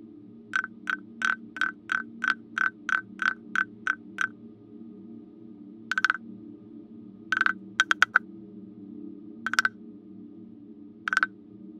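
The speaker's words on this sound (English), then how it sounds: "A Chinese percussion ratcheting instrument." Singing frog, a Chinese wooden ratcheting percussion instrument, played in a quick run of about a dozen evenly spaced rasps, then scattered single and doubled strokes over a low steady hum.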